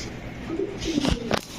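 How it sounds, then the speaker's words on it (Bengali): Pigeons cooing close by, a few soft, throaty coos overlapping in short bursts, with no speech over them. "কি সুন্দর কবুতরগুলা"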